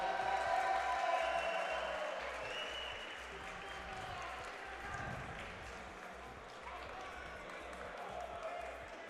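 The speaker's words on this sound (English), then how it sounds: "I just heard some a round of applause here at RoboFest for robot battle that just ended right next to us" Audience applause at a RoboFest robot battle in a busy event hall, faint and somewhat distant clapping mixed with crowd noise and a low thumping beat, with people talking nearby.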